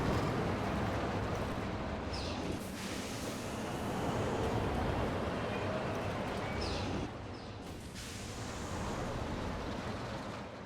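Block brake effect on a roller coaster in Planet Coaster 2, a steady broadband rushing hiss that swells and dips twice over about ten seconds, with faint clattering from the surrounding park, no voices.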